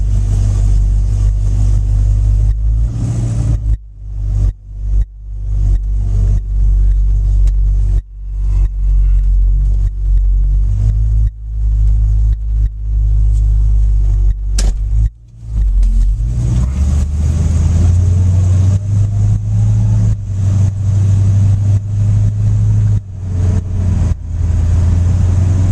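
A 1965 Ford Mustang Fastback engine, not yet warmed up, rumbles loudly as it is driven, with repeated gear changes and throttle lifts cutting the drone before it climbs again.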